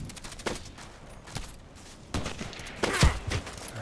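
Gunfire in the video game Contract Wars echoes at uneven intervals, some sharp cracks near and others muffled and distant, with a louder cluster of shots toward the end over a quiet background.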